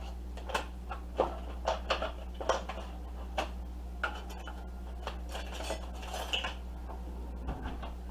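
Knife and cutting board picked up and set down while cooking baked ziti, a run of light clattering knocks and taps of utensil on board at close range, over a steady low hum, with no talking.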